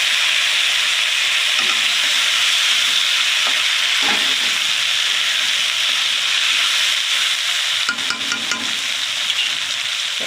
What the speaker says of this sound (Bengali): পেঁয়াজ দিয়ে আলু দিয়ে ভালো করে ভাজা হয়ে গেছে আমার